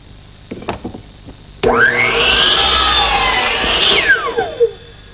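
A power saw spins up and cuts through wood for about two seconds, a loud whining rasp that winds down, preceded by a few light knocks.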